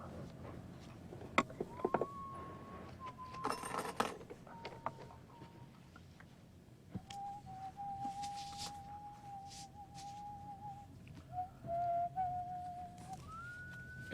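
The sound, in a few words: person whistling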